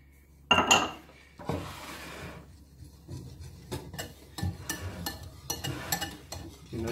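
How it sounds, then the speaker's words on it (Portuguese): A utensil scrapes and rasps against a bowl while flour, cornstarch and seasonings are mixed as dry ingredients for onion ring batter, giving irregular clinks and rubbing strokes, fairly quiet and close. "nós vai começar a misturar devagar com nosso cerveja"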